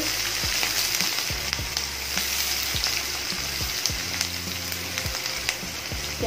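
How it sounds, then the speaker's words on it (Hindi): Chopped onions and asafoetida fry steadily in hot oil in a pan for dal fry, a continuous close sizzle broken by frequent sharp crackles and pops, with no talking. "प्याज को हमें बिल्कुल अच्छे से भूनना है।"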